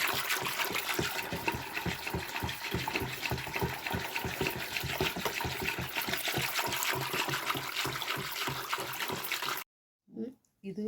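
Homemade butter made from cream collected over about ten to twelve days is washed by hand in water, and the splashing and swishing runs steadily and close for most of the clip before dropping out near the end.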